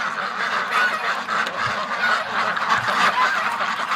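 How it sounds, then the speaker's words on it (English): A flock of ducks let out of their pen on a winter day makes a loud, steady chorus of close, overlapping honks and quacks that continues without a break. "then we'll let the ducks out"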